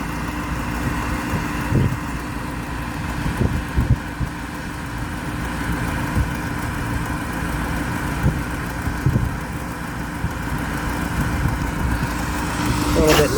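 A York rooftop HVAC unit's inducer motor runs as a continuous close hum with a loose part rattling on it, the rattle showing as irregular knocks scattered through the steady drone.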